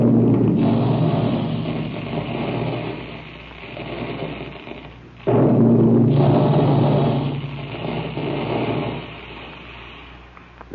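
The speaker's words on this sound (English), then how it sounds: "That's the sound you hear when puffed wheat and puffed rice are shot from special guns in the Quaker plant" Old radio sound effect of the Quaker plant's guns shooting out puffed wheat and puffed rice: a loud, sustained roaring rush that briefly cuts off midway, then surges back and slowly fades, with no voices.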